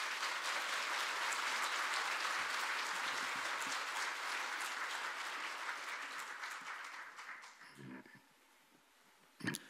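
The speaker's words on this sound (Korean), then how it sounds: "나오실 때 한번 큰 박수로 환영해 주시기를 바랍니다." A church congregation at an early-morning special prayer service gives a long, loud round of applause to welcome the preacher to the pulpit, then fades out over the last few seconds as a brief sound follows.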